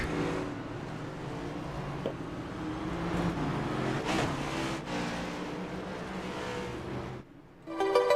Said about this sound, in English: The engines have been fired up here on the pit lane here at Daytona International Speedway